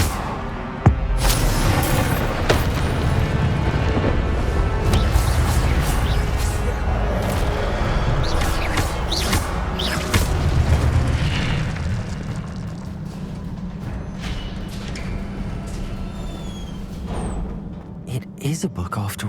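An Incendio fire spell cast in the PS5 game Hogwarts Legacy, a loud burst followed by a sustained roaring rumble that slowly fades, heard alongside talking.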